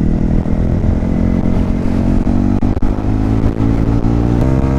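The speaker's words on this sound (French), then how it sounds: "il y a du monde dehors en moto" Loud motorcycle engines roar steadily past at close range, with revving and rumbling throughout and no talking.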